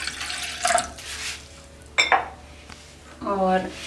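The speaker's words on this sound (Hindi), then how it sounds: "शीरे में ये पौना ग्लास में पानी डाल रही हूँ" Three-quarters of a glass of water goes into a pan to make sugar syrup for barfi, heard as a short rising filling gurgle near the end, preceded by clinks of utensils against the pan.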